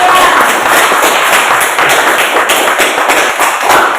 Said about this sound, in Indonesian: Mari kita beri aplaus kepada teman kita.